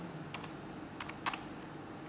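A password being typed on a computer keyboard, a few quick, light key clicks in short bursts with a sharper tap near the end, close and alone in a quiet room.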